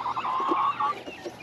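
A silver phoenix rooster near a flock with baby chicks gives a few short, close clucks and a drawn-out call, with no one talking.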